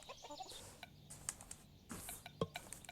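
Chicken clucking in the video game Road to Guangdong: a few faint, scattered clucks and short bird calls over a quiet background.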